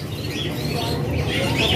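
Canaries chirping at the Sukahaji bird market in Bandung, a dense, steady wash of overlapping tweets and calls amid constant crowded market hubbub.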